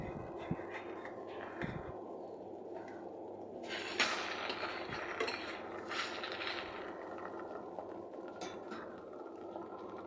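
An egg and flour snack is flipped in a frying pan, giving soft, scattered clinks and scrapes of a utensil against the pan over a low, steady kitchen background, with a couple of slightly louder knocks.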